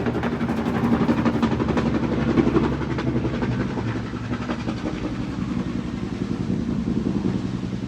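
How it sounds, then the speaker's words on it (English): A helicopter passes low overhead near a home, its broad rotor rumble loud and steady throughout with a faint rhythmic chop, easing off slightly toward the end. "But oh, I see it now, helicopter."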